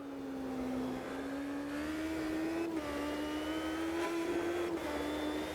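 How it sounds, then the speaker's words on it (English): A non-turbo V8 race car in the Automobilista 2 racing game drones steadily at high revs, its engine note rising and dipping slightly through gear changes with brief shift breaks, loud and continuous without any talk. "So now we're in the non-turbo one, which is a V8 engine"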